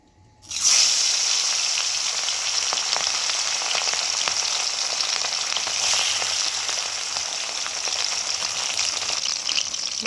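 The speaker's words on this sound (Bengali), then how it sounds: "তেলটা গরম হয়ে গেছে, এবার আমি মাছগুলো দিয়ে দেব।" Small sea fish dropped into hot oil in a pan sizzle sharply after a quiet start, then hold a loud, steady frying hiss with faint crackles and no voices.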